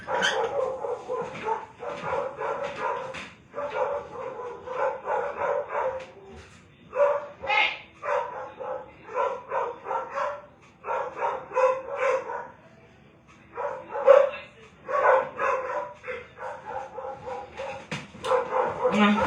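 Dogs barking repeatedly indoors at a lady walking her dog outside, with bursts of yaps and barks continuing through most of the stretch, fairly faint, while someone talks over them.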